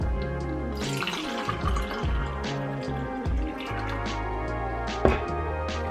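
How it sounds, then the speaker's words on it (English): Water is poured into a measuring container to make cold brew dashi, a steady close splashing and trickling stream with a brief stronger splash near the end. "Measure water."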